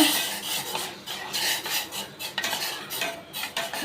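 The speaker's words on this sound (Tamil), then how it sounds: "நம்ம கொஞ்சம் போல் சேமியா போட்டுக்கோம் கிண்டி விட்டுக்கோங்க" Vermicelli being stirred in a pot of boiling water, with quick scraping and clinking strokes of a spoon against the pot in an irregular rhythm, close and alone without speech.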